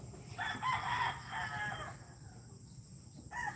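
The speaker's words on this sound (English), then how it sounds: "Roosters don't really bother me anymore" Roosters crowing in Bohol, Philippines: one drawn-out crow rings out, moderately near, then fades, followed by the start of another crow at the end over quiet rural background.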